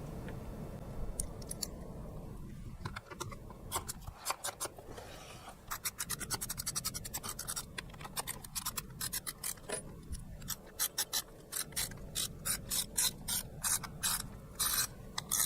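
Small screws being undone with a hand tool while taking apart a P100 gyro, a close, steady run of scratchy ratcheting clicks that quickens into dense rapid ticks toward the end, with no talk.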